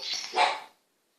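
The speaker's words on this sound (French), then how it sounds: "Désolée pour mon chien qui aboie." A pet dog barks in a home, a single close, sharp bark that fades quickly into silence.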